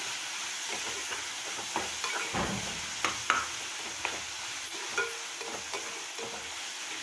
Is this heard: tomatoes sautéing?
yes